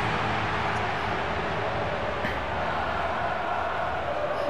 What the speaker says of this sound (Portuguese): A torcida fez presente no estádio, ó, gritando aí no o nome do Galo